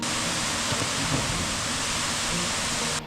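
A dense, constant roar of rushing water fills the whole stretch, loud and unbroken like a nearby waterfall, at a mountain waterfall on the Madhyamaheshwar trek.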